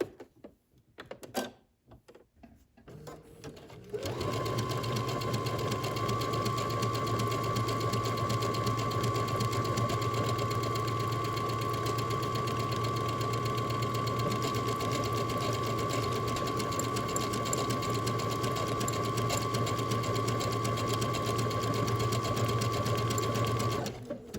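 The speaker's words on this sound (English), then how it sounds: "just sew your buttonholes following the instructions on your sewing machine manual" After a few seconds of faint rustling, a sewing machine starts up and stitches a buttonhole continuously in a fast, steady mechanical whir, up close.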